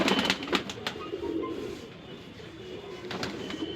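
A Shahjahanpuri breed pigeon coos softly nearby. The low, rolling coos repeat at an easy rhythm over faint background hiss, with a few brief sharper chirps or clicks mixed in.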